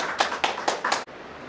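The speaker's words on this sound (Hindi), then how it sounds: "उनके लिए ताली बजा के प्रभु का स्वागत करते हैं।" A congregation clapping at the grand opening of a prayer hall in Indore: four quick, evenly spaced bursts of claps close by, then the sound stops abruptly.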